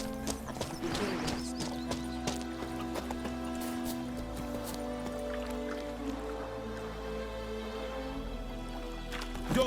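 Roach, a horse in The Witcher 3: Wild Hunt, trots with steady clip-clop hoofbeats over a continuous game music and ambient bed, with an occasional whinny.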